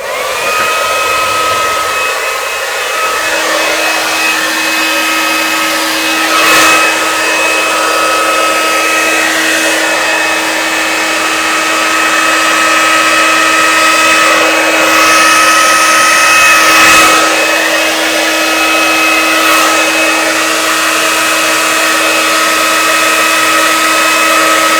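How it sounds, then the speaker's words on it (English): A hair dryer blows steadily and loudly nearby over poured paint with a constant whine, its airflow shifting slightly as it moves, running without pause. "And now I'm going to use the hairdryer, just giving you a warning."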